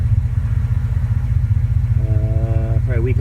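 A 2011 Chevrolet Suburban with a Magnaflow muffler and a resonator delete idles with a steady, loud, low exhaust rumble, while a voice talks briefly near the end.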